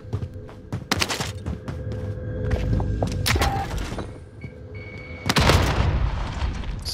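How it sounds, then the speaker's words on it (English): Grenade blasts and gunfire in the Call of Duty Warzone map Fortune's Keep: several sharp, loud bangs and cracks in quick succession, followed by a heavier booming burst near the end, with no talking. "Someone just threw a nade at me."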